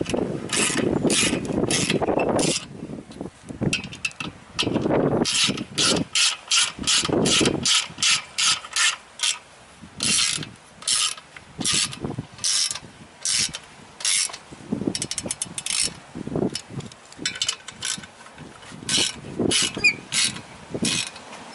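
Close ratchet wrench tightening clutch pressure plate bolts in a criss-cross pattern on a 5.0-swapped Ford Mustang: repeated bursts of rapid clicking separated by short pauses, steady and loud, with no talking.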